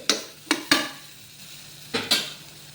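Mushrooms are stirred in a hot pan with a spoon, giving a few sharp scraping strokes over a faint sizzle, with two quick strokes early and two more near the end.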